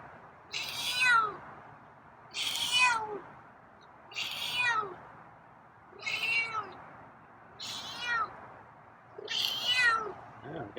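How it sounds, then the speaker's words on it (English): A feral cat meows six times at steady intervals of roughly two seconds, each call drawn out and fairly close, with quiet background between cries. "Oh, we got some meows today."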